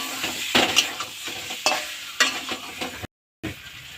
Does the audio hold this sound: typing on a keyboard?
no